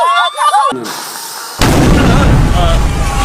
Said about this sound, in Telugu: ఏం పర్లేదు, అయితే బాంబే.